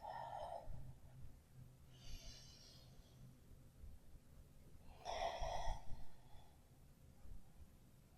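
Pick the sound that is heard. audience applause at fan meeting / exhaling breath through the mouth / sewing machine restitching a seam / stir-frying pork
exhaling breath through the mouth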